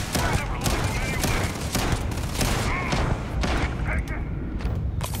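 Shotgun fire in the video game Starfield: loud, heavy booming blasts in quick succession over a dense din of combat, with a voice talking over the shots.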